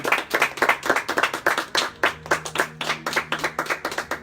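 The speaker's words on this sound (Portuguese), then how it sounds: "Vamos aplaudir Jesus por ele." A church congregation claps during a Portuguese-language service, crisp hand claps in a brisk, fairly regular rhythm, close and moderately loud, with a faint tonal hum joining partway through.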